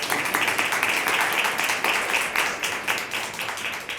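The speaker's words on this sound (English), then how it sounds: "I just want to give a round of applause for all our" Audience applause closing a law symposium panel on cannabis decriminalization and discrimination law, steady dense clapping sustained for the full four seconds at a moderate level.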